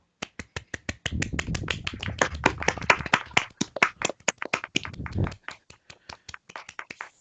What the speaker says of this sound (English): we'll commence the 10 seconds of applause now.